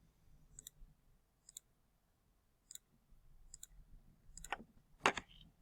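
Sharp, isolated mouse clicks in a quiet room while using a spot healing brush in Maya, about six clicks spaced irregularly, the last two louder and closer together, with no talking.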